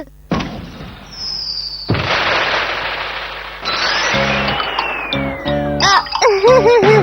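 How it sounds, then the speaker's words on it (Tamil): Cartoon fireworks display bursting with whooshing launches, a rising whistle and crackling pops that grow busier toward the end, accompanied by layered music-like tones. "பாத்தியா, இந்த ஃபயர் ஒர்க் டிஸ்ப்ளே ரொம்ப அழகா இருக்குல்ல?"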